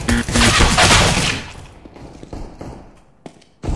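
A burst of rapid video game gunfire fills the opening second and a half, fading into scattered thuds, then a sharp shot returns near the end.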